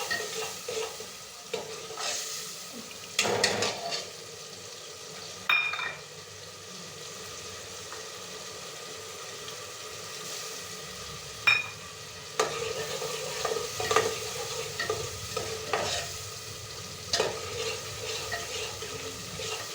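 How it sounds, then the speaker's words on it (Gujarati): Masala paste with ginger, garlic, chilli, salt and turmeric frying in a pan, a quiet intermittent sizzle with scattered stirring scrapes and clanks, louder bursts between calmer stretches. "નાખી દઈએ આખો મસાલો જે આપણે મસાલો બનાવ્યો હતો ને, નાખતા લઈ આદુ લસણ મરચું મીઠું હળદર નાખી"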